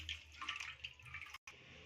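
Thick milk pours into a pan for appe payasa, a steady liquid splashing and trickling close by that breaks off for an instant and then continues.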